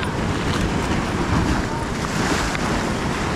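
Steady rushing surf and wash of water with gusting wind noise throughout, continuous and fairly loud, no voices.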